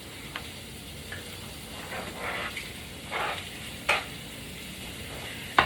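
Shrimp dropped into a hot pan already sizzling with salmon, a steady low fry with a few sharp bursts of crackle and stirring scrapes, close and fairly quiet with no talking.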